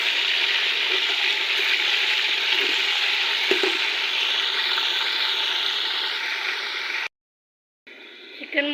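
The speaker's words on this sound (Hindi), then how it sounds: "मैंने तेज़ गर्म घी में चिकन जो है उसको डाल दिया है फ्राई करने के लिए" Chicken fries in very hot ghee, giving a loud, steady hissing sizzle with a few faint clinks for about seven seconds before the sound abruptly cuts out, then briefly returns.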